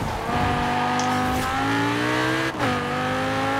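A Lamborghini Gallardo engine revs hard while accelerating, its pitch climbing steadily through the gears with a short dip at a gear change, loud and continuous throughout.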